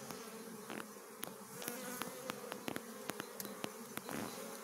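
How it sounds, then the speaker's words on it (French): Honey bees fly around their hives near a cherry tree in a French apiary, a steady soft buzzing swarm with individual insects whizzing close past at irregular moments, no talk. "tu peux filmer un peu les abeilles devant, que les gens y voient les petites abeilles"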